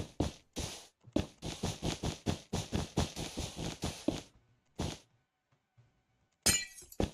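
Tinted glass shattering in a fantasy inn-building video game, a rapid run of about a dozen sharp, close breaking crashes with clinking shards, then a pause and one final crunchy burst.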